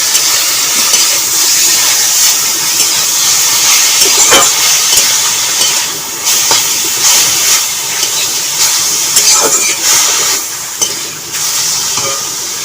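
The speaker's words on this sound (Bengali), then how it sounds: "তেলটা গরম হলে শাকটা দিয়ে দেবো" Leafy greens frying in hot oil for a Bengali village-style saag posto, a loud continuous hissing sizzle with scraping stirs and crackles breaking through.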